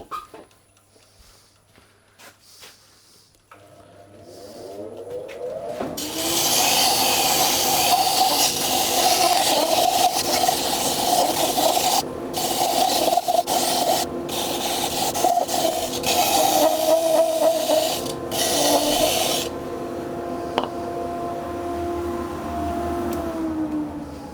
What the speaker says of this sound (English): Just sander, slow speed,